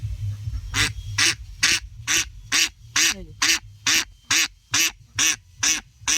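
Two village ducks, one yellow and one darkish, give a close series of about a dozen loud, evenly spaced quacks over a low background murmur.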